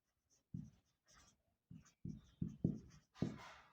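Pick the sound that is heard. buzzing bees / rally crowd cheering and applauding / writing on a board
writing on a board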